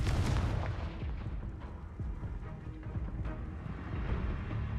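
Confringo fire blast spell in Hogwarts Legacy, a loud booming burst that fades into a rumbling, crackling roar, filling the whole moment with dense low noise.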